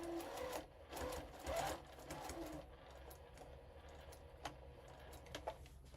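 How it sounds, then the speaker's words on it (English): A sewing machine stitches a foundation paper pieced bunny quilt block in a quick, steady whir with short pauses, followed by a few faint isolated clicks. "So now I'm going to take this over to the machine and stitch on that line"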